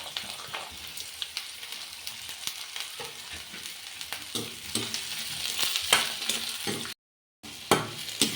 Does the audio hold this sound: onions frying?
yes